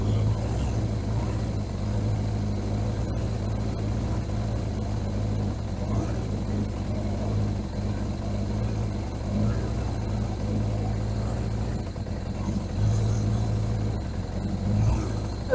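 A 1981 Suzuki GS750 motorcycle engine idles on choke with a low, steady, slightly uneven rumble that is fairly close and moderate in volume, with no speech over it.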